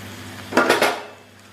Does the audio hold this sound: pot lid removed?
yes